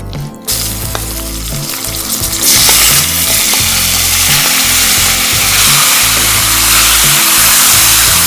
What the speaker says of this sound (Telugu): ఇప్పుడు ధనియాలు కొంచెం సేపు వేగిన తర్వాత మన చికెన్ ముక్కల్ని కూడా ఇందులో వేసేసుకుందాం.